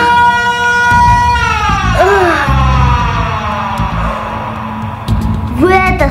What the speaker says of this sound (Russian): Звуки сирены!